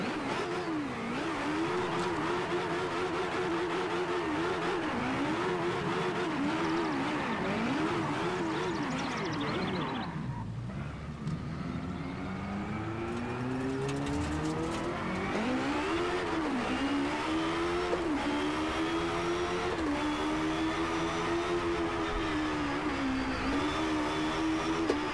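An Ariel Atom's engine revs hard in the Driveclub VR racing game, rising and falling in pitch through repeated gear changes. There is a brief dip near the middle, then it climbs again, loud and continuous throughout.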